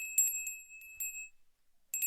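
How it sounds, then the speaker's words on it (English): A small chakra bell rings with a bright, thin metallic tone in a few quick light strikes, one sustained ring decaying over about a second, then another strike near the end; quiet and alone. "Chakra bell."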